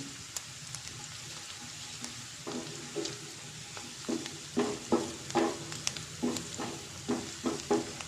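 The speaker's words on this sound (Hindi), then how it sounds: "1 से 2 सेकंड तक मैं और फ्राई करूंगी।" Onions frying in a pan for a salan of potatoes and eggs, with a soft continuous sizzle under a series of distinct stirring scrapes and taps from a spoon.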